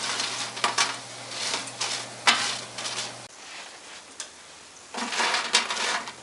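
Freezer fries sizzle on an oven tray fresh from the oven, a steady crackling hiss with scraping and stirring noises over about six seconds, close and fairly loud, with no voices.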